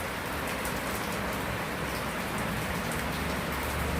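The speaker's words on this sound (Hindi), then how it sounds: "अभी तो बारिश हो रही है।" Steady rainfall patters continuously on surfaces outdoors during a Narmada parikrama pilgrimage, a dense even hiss with no voices.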